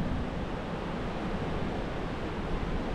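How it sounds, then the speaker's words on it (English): Meltwater waterfall rushing deep inside a frozen glacier rock crack near an ice cave, a steady broadband roar filling the space with no voices. "I can hear a waterfall back here."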